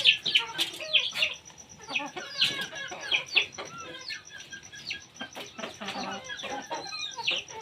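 A farm hen clucks and chirps repeatedly in short, uneven bursts, close and fairly loud, with brief pauses between calls and no one speaking.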